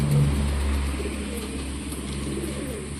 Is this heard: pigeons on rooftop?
yes